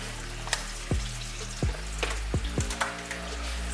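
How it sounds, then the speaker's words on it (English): Chicken tenders sizzle and fry steadily in a pan, with a few sharp clinks and bumps of utensils punctuating the crackle. "What you hear frying in the background are Ava's chicken tenders"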